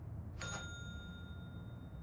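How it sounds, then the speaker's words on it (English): A bell struck once in the Control video game rings out with a bright metallic ding, its clear tones lingering and slowly fading over a low steady hum; no talk. "then if we hit the bell"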